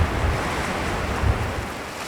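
Ocean surf on an open, quiet coast in Vesterålen, Norway, with a steady broad wash of breaking waves, wind buffeting the microphone and a couple of low thumps.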